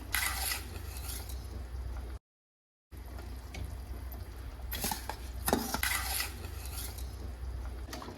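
Washed, soaked rice poured into a pot of boiling water for egg biryani, with clattering pot and utensil sounds, stirring and watery splashing, close and moderately quiet, broken by a brief silence.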